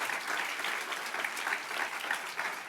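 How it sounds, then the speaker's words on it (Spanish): A church congregation at a conference applauds in a steady, full burst of clapping that carries at an even level throughout, with no speech over it. "Denle un fuerte aplauso a Dios"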